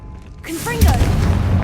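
A Confringo fire spell in Hogwarts Legacy lands as a deep, booming blast after a short shouted word, its low rumble lingering over the remaining moment.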